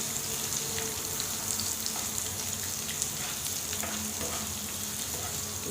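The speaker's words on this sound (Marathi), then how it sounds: "आता आपण याच्यात बारीक चिरलेल्या 2 मिरच्या घालूया. हे व्यवस्थित फ्राय करूया." Chopped green chillies sizzling steadily in a hot pan of oil while tomato saar is being prepared, a continuous close frying crackle with occasional stirring scrapes and no voices.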